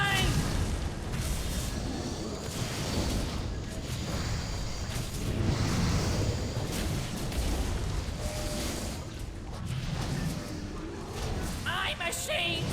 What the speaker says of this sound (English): Explosions! More explosions! I gotta have more explosions!